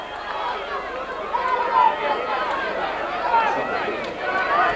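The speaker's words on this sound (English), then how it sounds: "Crowd starting to liven up now" Gaelic football crowd at Clones for the Donegal v Louth National Football League playoff, a steady hubbub of chatter and shouts that swells at moments, with a commentator talking over it.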